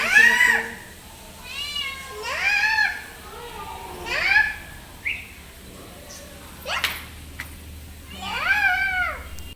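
A cat meows repeatedly, five or six clear, close cries in an uneven rhythm, while a child chatters in between the calls.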